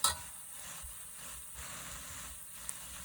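Spices frying in a little oil for a dhaba-style egg masala curry make a soft, steady sizzle close by, with faint stirring now and then and no talking.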